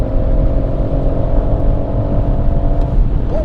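A BMW M140i holds full throttle on the Goodwood circuit, its engine a loud, sustained roar with a steady drone, close and continuous throughout.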